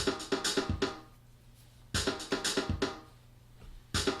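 A repeating Molten drum machine pattern of kicks and snappy hits plays alone, looping every couple of seconds with crisp, evenly spaced beats.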